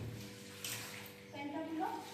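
Splashing water as a pen is washed in a tub of water, a soft continuous slosh close by, with a child and an adult talking over it.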